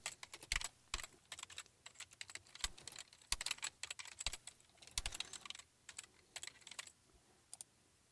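Rapid, uneven keystrokes clatter on a computer keyboard at close range, coming in bursts with brief pauses, quiet and without any talking.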